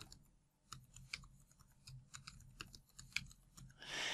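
A password is typed on a computer keyboard, with a quick run of faint, irregular clicking keystrokes ending in a short burst of noise, no speech.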